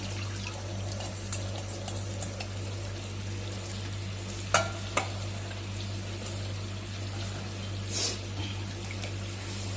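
Goat blood being stirred into mutton offal in a pan: soft, continuous sizzling and wet scraping of a spoon, with a couple of sharp clinks against the pan, close and without talk.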